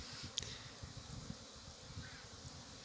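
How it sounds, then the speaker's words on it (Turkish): Honey bees leave their hives to fly on a fine spring day, a faint continuous low buzzing of many bees, heard softly at a distance with no voices. "Havanın yaxşı olmağından istifadə edilen arılarımız da çıxıblar oynağa"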